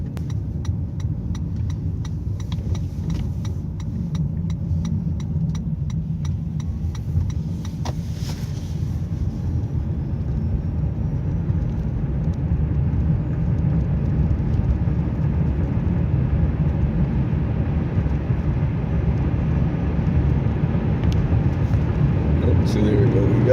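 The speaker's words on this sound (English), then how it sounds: "We got the engine on" Toyota Prius Prime petrol engine running at highway speed in cold weather, a steady low drone blended with road and wind noise inside the cabin, holding constant and growing slightly fuller over time.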